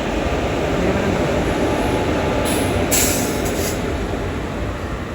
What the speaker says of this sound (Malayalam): വർക്കല ശിവഗിരി റെയിൽവേ സ്റ്റേഷനിലേക്ക് ഇതാണ് നമ്മുടെ ട്രെയിൻ എത്തിക്കൊണ്ടിരിക്കുകയാണ്